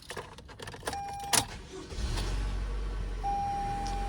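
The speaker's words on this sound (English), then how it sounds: "go ahead and start the vehicle" A 2019-2023 Toyota RAV4 is started: key and interior handling clicks, a chime, then the engine catches and settles into a steady low idle up close.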